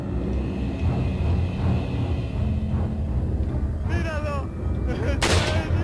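Rifle shots in the PS2 game Resident Evil 4, with Leon facing the lake monster: sharp in-game gunfire bursts over a dense, rumbling action soundtrack, with a brief squealing creature cry near the end and a louder final blast.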